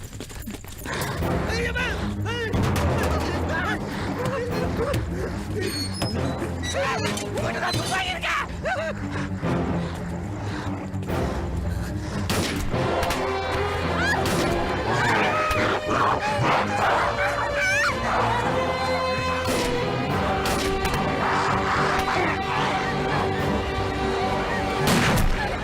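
Gunshots in a scene from the Tamil film Miruthan, heard as sharp cracks mixed into dense, loud music and voices that run throughout.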